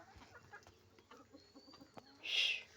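Farm hens cluck softly in short, scattered calls close by, followed near the end by a louder, brief squawk.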